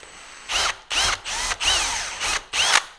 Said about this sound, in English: A 3/16 bit, one hole